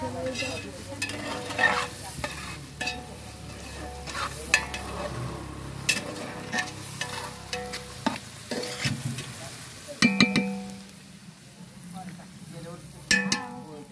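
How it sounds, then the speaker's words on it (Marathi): Onion being sautéed in a pan, with steady sizzling and repeated scraping and clinking strokes of a stirring utensil, fairly close, with occasional louder knocks against the pan. "आता हा कांदा चांगला परतवून घ्यायचा।"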